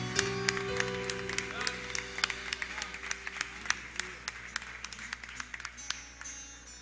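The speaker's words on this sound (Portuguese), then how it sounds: "Você pode glorificar o Senhor com as suas palmas essa manhã." A church congregation claps in time during a Carnival Sunday worship service, the sharp rhythmic claps sounding fairly faint beneath sustained music and singing.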